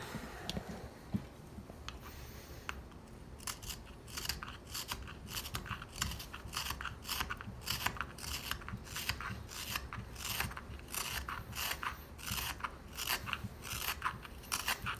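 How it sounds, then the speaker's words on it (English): A knife carves the hollow of a wooden spoon bowl, heard as a long series of close, dry scraping and shaving strokes in a fairly steady rhythm, quiet and alone. "I'm cutting with a twisting motion of my wrist, making sure that essentially this becomes a hollow on both sides"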